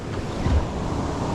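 Ocean waves surge and break along a reef edge while wind buffets the microphone, a loud continuous rushing wash with a brief swell of low rumble partway through.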